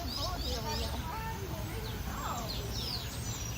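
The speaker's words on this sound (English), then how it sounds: "it is a musical symphony of birds" Several birds chirp and trill in overlapping, quick song phrases, fairly faint, against a soft outdoor background at Disney's Animal Kingdom.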